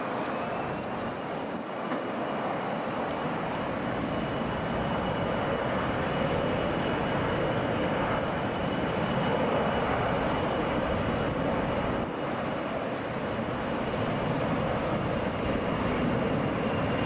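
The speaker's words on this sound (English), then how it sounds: "Delta Airlines Flight 2270 from Philadelphia. So Boeing 757. Wheels are down." A Delta Airlines Boeing 757 lands at Hartsfield-Jackson airport in Atlanta with its wheels down, heard as a long, steady, moderately loud jet rumble and rush that swells slightly midway and stays continuous for the whole stretch.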